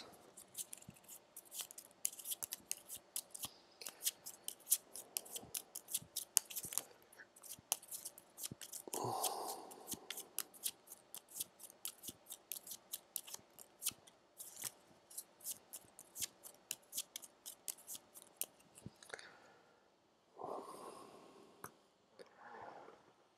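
Gloomhaven boss deck cards being shuffled by hand, a rapid run of crisp riffling clicks and flicks that fills most of the stretch, close and fairly quiet, with a couple of softer rustles near the end.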